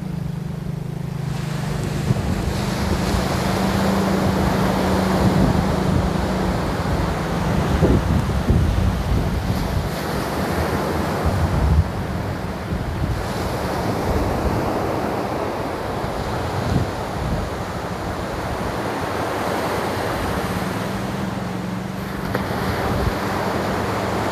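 Sea waves breaking and washing onto a shore, a steady broad rush of surf with gusts of wind buffeting the microphone, continuous and fairly loud throughout with no voices.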